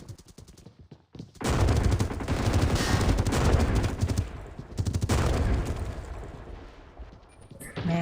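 Gunfire in the Scarfall 2.0 battle royale game, a dense burst of rapid automatic shots lasting several seconds, loud and close, followed by a brief pause and more firing.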